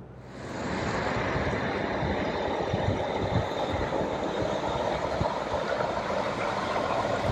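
A MAN TGX 18.640 truck drives through the hilly vineyard slopes of Alsace, producing a steady, loud, continuous rumble of engine and road noise with no voices.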